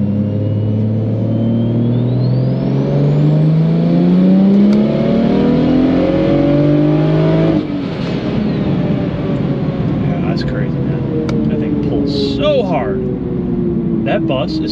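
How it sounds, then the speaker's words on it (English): A BMW 135i accelerates hard at full throttle, its engine note climbing through the gears in loud rising sweeps with a brief break at a shift, then dropping off, heard from inside the car with voices talking near the end. "It's allowing me to go through the gears with full throttle"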